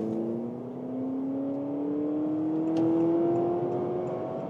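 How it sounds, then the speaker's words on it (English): An SUV in sport mode accelerates on a motorway, its engine note climbing steadily in pitch as a smooth whirring drone swells slightly louder, heard from inside the cabin without any speech. "the engine sounds like a sports car, doesn't it?"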